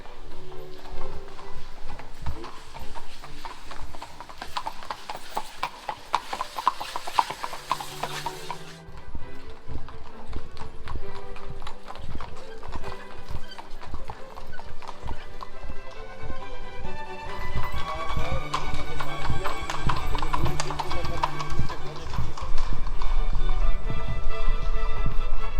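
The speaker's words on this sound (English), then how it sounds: "you will likely have several horse carriages pass you." Horse carriages clip-clopping along a street in Salzburg, Austria: rapid hoof beats on pavement with wheel rattle, moving close and fairly loud, joined by background music and a brief murmur of voices.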